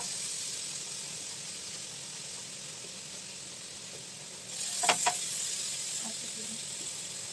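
Chicken reshmi kabab fries in a pan over a medium-to-low gas flame, giving a steady soft sizzle with a brief clatter of utensil contact midway, close and fairly quiet.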